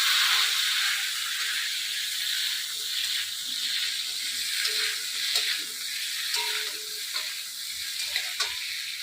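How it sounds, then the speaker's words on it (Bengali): Pieces of rohu fish fry in hot oil, a steady close sizzle running the whole time with faint clinks and stirring scrapes, no talking. "ভেজে রাখছি"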